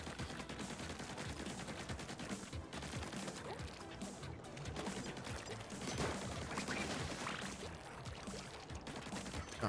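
Rapid gunfire and weapon effects in Splatoon 3 crackle densely and continuously, loud and busy, with almost no talking.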